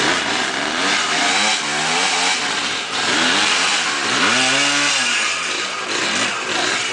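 A trail motorcycle on a dirt trail ride revs loudly and continuously nearby, its engine pitch rising and falling in repeated sweeps as it labors and is pushed toward stalling.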